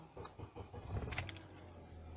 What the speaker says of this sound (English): just started the engine.